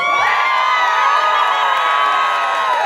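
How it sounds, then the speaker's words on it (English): An audience at a New Orleans Entrepreneur Week pitch event cheers and whoops steadily, with crowd shouting dominating and only faint clapping beneath. "big round of applause"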